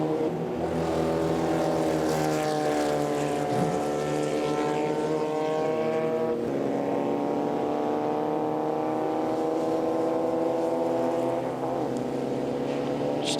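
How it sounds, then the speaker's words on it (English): Air-cooled Volkswagen-engined race cars run along the main straight at a sporting car club plate race, a steady loud multi-engine drone with sustained revving and no talk over it. "As they come out onto the main straight, that familiar puff of oil from these Volkswagen air-cooled engines."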